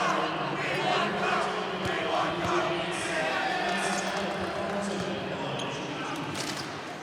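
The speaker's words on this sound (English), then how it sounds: "You can hear our Hopkins crowd here chanting for Brooke." Hopkins home crowd chanting a player's name at a state girls' basketball game, a loud continuous roar of many voices in a gym with ball bounces and shoe squeaks, a commentator talking over it.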